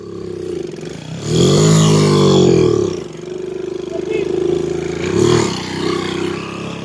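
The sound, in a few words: old motorcycle engine revving with slipping drive belt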